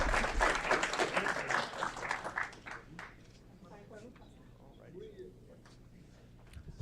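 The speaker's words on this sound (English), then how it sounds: "A round of applause again for these 2 standout students" Applause from an audience at a city committee meeting for two standout students, strong at first then thinning into scattered claps with murmured talk and movement in the room.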